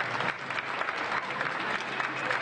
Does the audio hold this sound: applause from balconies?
yes